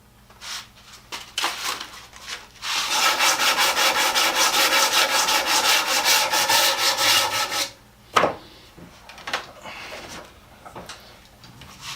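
Sanding pad rubbing briskly back and forth over a wooden scraper, a steady run of close, loud scratchy strokes lasting several seconds, with a few isolated scrapes before and after.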